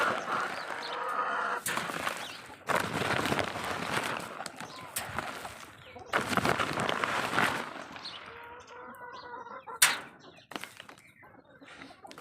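Chickens cluck and call nearby while being fed maize, with scattered scratching and rustling bursts and a person talking over the birds.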